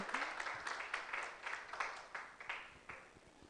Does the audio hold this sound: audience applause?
yes